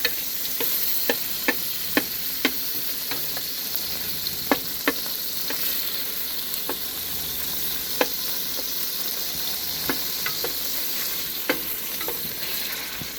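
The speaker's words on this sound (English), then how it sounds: "we're gonna melt a half a stick of butter to start with over pretty much medium-high heat" Half a stick of butter sizzles and fries steadily in a pan over medium-high heat, a soft, continuous hiss with scattered small pops and ticks.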